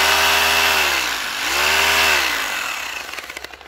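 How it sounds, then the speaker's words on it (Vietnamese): Concrete drill powered by a 12V iron battery pack, a loud steady motor whine with a strong harmonic drone that dips briefly, then revs back up before sputtering and winding down into rattly pulses. "tải được cái máy khoan bê tông này luôn này"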